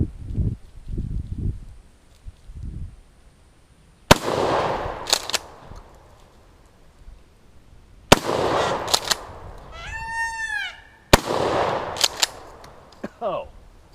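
A shotgun booms three times at a shooting range, each sharp blast followed by a ringing tail. A person talks briefly before the first shot.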